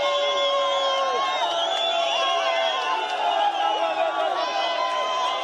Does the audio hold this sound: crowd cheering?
yes